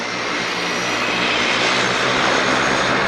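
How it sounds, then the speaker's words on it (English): A fixed-wing airplane flying in low overhead, its engine roar loud, steady and continuous throughout, with no voices. "There's a plane coming in."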